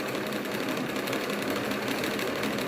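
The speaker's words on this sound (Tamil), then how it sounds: "பாபின் பெர்ஃபெக்டாக நூல் சுற்றுது" A sewing machine's electric motor drives the bobbin winder, spinning thread onto a bobbin in a steady, continuous whir that holds a constant level throughout with no talking.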